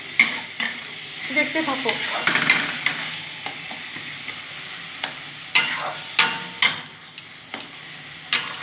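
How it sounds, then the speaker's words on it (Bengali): Pointed gourd fries in a pan with turmeric as a spatula stirs it, sizzling under sharp metallic scrapes and clanks. A voice briefly speaks. "পটলের থেকে যে জল উঠবে না, সেটা দিয়ে এটা সুন্দর করে ভেজে নেব"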